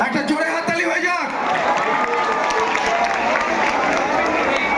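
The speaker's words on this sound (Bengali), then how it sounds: "একটা জোরে হাততালি হয়ে যাক।" A crowd at the Banipur Loko Utsav fair cheers and claps, a loud, busy wash of voices and scattered applause that swells after an opening burst of shouting and stays dense to the end.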